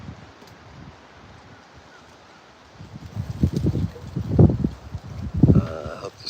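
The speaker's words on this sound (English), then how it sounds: "It is pretty windy out here." Wind blowing outdoors, buffeting the microphone in rising gusts that grow loud and rumbling over the latter half after a quieter, steadier start.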